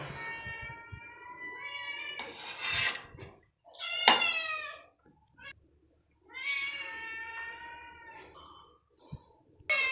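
House cats meow at feeding time in a home kitchen: several clear, close meows come in separate bursts with quiet pauses between them, alongside faint clinks of dishes and no talking.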